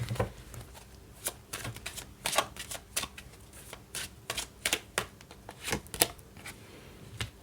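Tarot cards shuffled by hand in a quiet room, a run of crisp, rapid riffling bursts and slaps repeating irregularly across the stretch, close and fairly soft.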